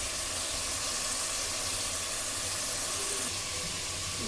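Ginger and garlic fry in a pan with onion, giving a dense, steady, hissing sizzle close up, fairly even throughout and with no voices.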